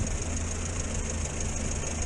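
The engine of a 1962 Morris Minor idles close by with a steady, low, even rumble that holds without change or pauses.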